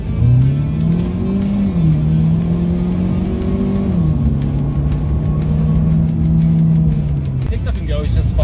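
A 2023 Ford Maverick XFR pickup engine pulls hard under acceleration, its droning tone climbing through gears with brief dips at each shift, loud and steady from inside the cab while someone talks over it.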